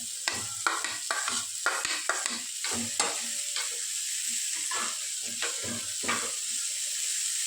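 Paneer sizzles in a hot pan while a utensil stirs and scrapes repeatedly in an uneven rhythm; no voices.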